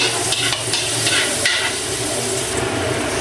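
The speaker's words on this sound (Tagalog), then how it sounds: "Lagay na natin ang ating luya dahil mainit na po ang ating kawali at mantika." Ginger dropped into hot oil in a heated pan, a loud, steady, close sizzle that fills the whole moment, with a few bright crackling bursts.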